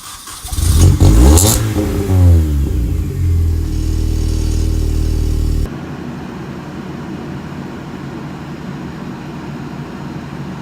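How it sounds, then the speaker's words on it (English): Race car engine revving hard on a short test drive, loud rising and falling throttle blips near the mic, then settling into a lower steady drone, no voices. "I got to take it out for a little bit of a test drive because I miss this thing so damn much"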